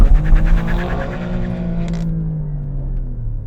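An Alfa Romeo Stelvio Quadrifoglio with a 510-horsepower engine launching from a brake-boosted standstill, its loud, close engine roaring hard, then easing to a lower rumble.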